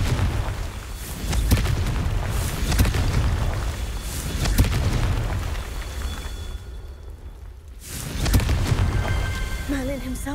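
Casting Confringo, an explosive spell in Hogwarts Legacy, sets off booming blasts with deep rumbling impacts and crumbling debris, loud and recurring, fading briefly to near silence before another heavy thump; a voice speaks over part of it.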